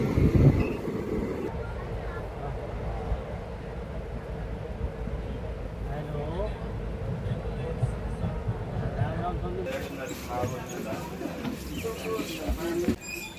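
The Guntur-Rayagada Express passenger train rumbles steadily along the tracks with a low, continuous roar heard from inside a carriage, while people talk over it.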